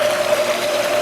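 Stock tank pool pump pushing water, a short burst of steady rushing water with a constant mechanical whine underneath, fairly close.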